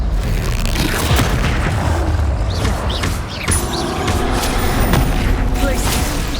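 The Incendio fire spell in Hogwarts Legacy gameplay lets out a loud roaring whoosh and booming blast amid dense combat noise, with a voice speaking over it.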